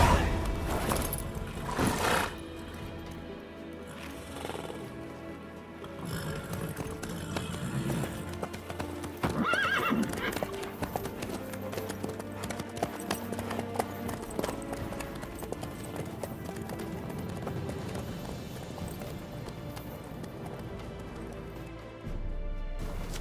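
Horse hooves clopping in The Witcher 3: Wild Hunt, a steady rhythmic trot running throughout, mixed with game music, crashes and ambient noise, fairly loud and close.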